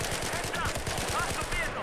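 Battlefield 4 gunfire, a quick rattling stream of automatic shots at moderate level, blended with game ambience and brief voice sounds.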